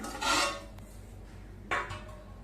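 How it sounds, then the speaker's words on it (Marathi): A metal steamer lid is lifted off a pot of steamed mixed-vegetable vadi mixture, giving two short clattering bangs of cookware over a quiet background, with no speech. "झाकण उघडून बघूया"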